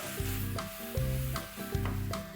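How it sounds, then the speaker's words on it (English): Momos browning in a hot pan give a steady close sizzle, with soft scraping and rubbing strokes as they are gently stirred in a few even sweeps. "Let's give this a gentle stir."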